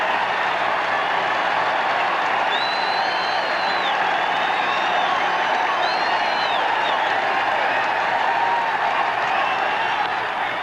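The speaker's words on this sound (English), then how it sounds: "these fans are cheering" A large baseball crowd in the eighth inning cheers and applauds in a loud, sustained roar, with scattered whistles and whoops rising above the steady clapping.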